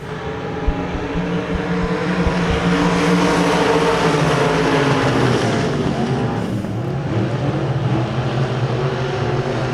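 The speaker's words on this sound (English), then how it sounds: "Start off turn number 4, picking up the throttle. Green flag." Dirt track race cars at Devil's Bowl Speedway roar as they accelerate together off turn four at the green flag, a loud, dense and sustained engine drone that swells and holds steady.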